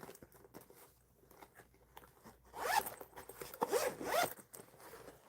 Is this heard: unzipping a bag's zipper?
yes